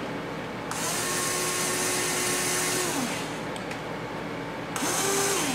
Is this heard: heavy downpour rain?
no